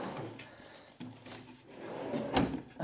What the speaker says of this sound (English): Now that's all three drawers in.